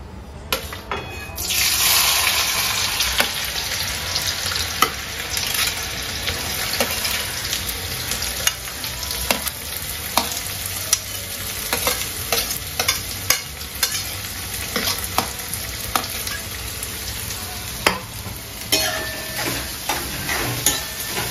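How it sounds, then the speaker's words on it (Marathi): Onion dropped into a hot kadhai sizzles and fries as it is stirred, making a continuous close crackle punctuated by repeated sharp scrapes and knocks of the spoon against the pan, with no speech. "आता याच्यामध्ये आपण कांदा टाकतो."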